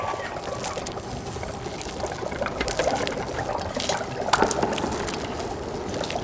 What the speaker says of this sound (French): fit couler un petit robinet d'où sortirent quelques gouttes d'un élixir